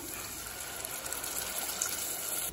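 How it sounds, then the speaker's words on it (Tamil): Steady rushing pour of water into a pan of peanut curry, continuous and close, with no talking. "அடுத்தது 1 கப் அளவு தண்ணி சேர்த்துக்கலாம்."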